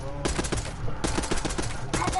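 SMG gunfire from the Call of Duty game comes in rapid automatic bursts, three fast strings of shots separated by short gaps, loud and close, with no talk over them.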